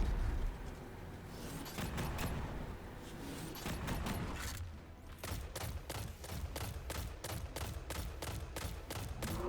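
Scout rifle fire from a Hive encounter in Destiny 2: evenly spaced, sharp shots in a steady rapid rhythm, preceded by a noisy stretch of mixed combat sounds, moderately loud.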